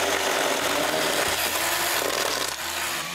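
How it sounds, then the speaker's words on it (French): A small battery-powered saw cuts through tree branches at close range, giving a loud, continuous rasping buzz with slight shifts in pitch and no voices. "la petite scie à batterie, là, est parfaite pour couper les branches"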